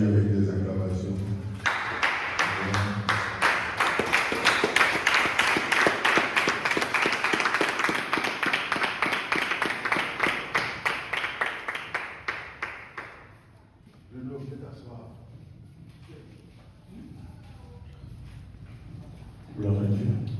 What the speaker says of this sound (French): nous allons l'accueillir avec des acclamations